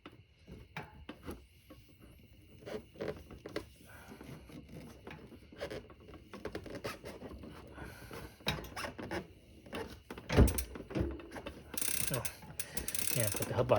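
Bicycle rear hub body ratchet clicking as a cassette is changed on a Privateer 141 bike, with irregular mechanical clicks and small metal handling sounds, close and moderately loud, plus a sharper clack near the end.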